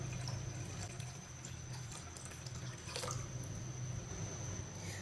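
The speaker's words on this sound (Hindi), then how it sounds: "अब इसमें ठंडा पानी डाल लेंगे।" Cold water pouring steadily into raw mango juice, a continuous close splashing flow that runs alone throughout with no talk.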